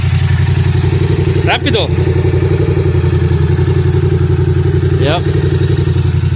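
Engine of a Yamaha R7 motorcycle running loud and close, a steady low rumble throughout with two brief rising blips, while people talk over it.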